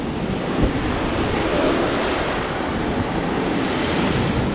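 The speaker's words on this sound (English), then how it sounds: "Big waves." Big ocean waves break and surge along a high-tide coastline, a loud continuous roar of surf mixed with gusty wind buffeting the microphone, no voices.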